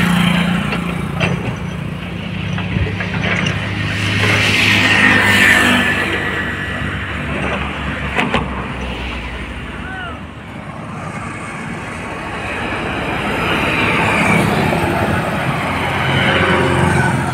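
Cars and light engines pass over the new Panposh bridge in Rourkela, their engine noise swelling and fading as each vehicle goes by, with someone talking at times over the traffic.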